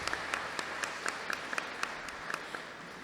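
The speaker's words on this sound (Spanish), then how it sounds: "Le damos aquí un fuerte aplauso a Liz por haber participado." Applause from an audience at a diocesan congress on women's dignity, a steady wash of many hands clapping with a few sharper claps standing out, moderately distant and continuous throughout.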